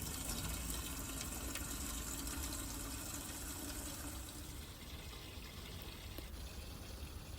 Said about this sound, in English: I'm going to go ahead and water it in because I don't want any air pockets trapped around those roots